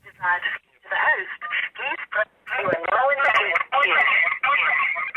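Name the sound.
cell phone call connecting, dialing tones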